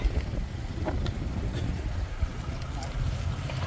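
Small vehicles cross the new bridge over the Machna river on the Shahpur bypass, a steady low traffic rumble mixed with wind buffeting the microphone and a few faint voices in the background.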